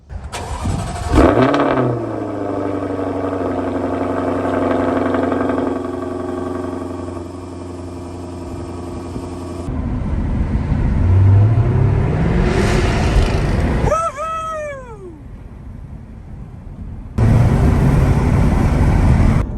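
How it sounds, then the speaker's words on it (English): Jaguar F-Type cold start: starter whir, then a loud exhaust bark and high revving flare settling into a steady rumbling idle, followed by further throttle blips and revs echoing nearby. "let's go for a cold startup and see how that exhaust sounds"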